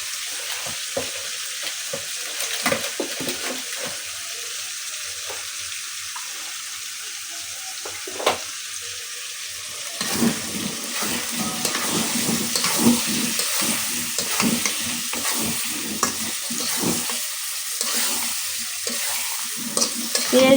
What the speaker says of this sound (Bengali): এখন একটু মুরগি মাংস বসাইছি, কিছু মশলা অ্যাড করে দিতেছি